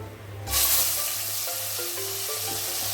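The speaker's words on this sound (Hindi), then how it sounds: "तो चलिए इसी तरह पूरा सब हम फ्राई करके ले लेते हैं।" Eggs fry in hot oil in a kadhai, a loud burst of sizzling kicking in after a brief quiet start and then crackling steadily close by.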